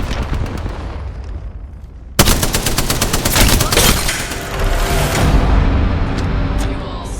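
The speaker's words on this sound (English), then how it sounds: "They're shooting at me." Gunfire in the video game Apex Legends, with sparse shots giving way to a sudden loud burst of rapid automatic fire and then sustained heavy shooting and explosion-like rumble.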